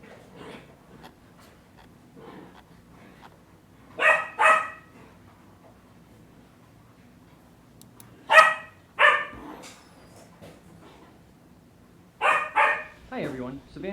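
A dog barks in short bursts, a few sharp yaps at a time, fairly close, with quiet stretches of faint background noise between them.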